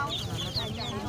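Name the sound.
chicken clucking at a market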